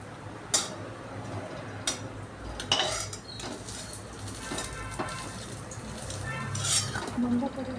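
Eggplant fritters (beguni) fry in hot oil with a continuous crackling sizzle, broken by occasional close clinks and scrapes of a utensil against the pan.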